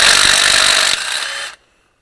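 Power tool, likely an impact wrench or ratchet, running loud and continuous while pulling intake manifold bolts off a V8 engine, then cutting off abruptly after about a second and a half, leaving silence.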